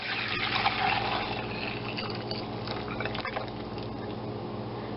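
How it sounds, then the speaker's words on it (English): Crème anglaise custard pours into a heat-proof bowl with a thick, steady liquid glugging and gentle splattering, close and fairly quiet, with a brief knock partway through. "We're going to pour this back into our heat-proof bowl."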